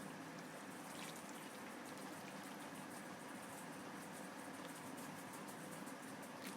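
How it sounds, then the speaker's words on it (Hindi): Water is poured into a cooking pot while making an arvi gosht mutton curry, giving a faint, continuous rushing splash against a steady hiss for several seconds. "पानी को डाल देंगे, वाटर को"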